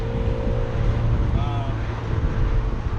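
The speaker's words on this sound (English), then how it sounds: "Got our windows open, so it's pretty loud, but we're in stop and go traffic." Continuous low road and engine rumble of stop-and-go traffic heard through the open windows of a Tesla Model S, with wind buffeting throughout and a faint brief tonal whine in the middle.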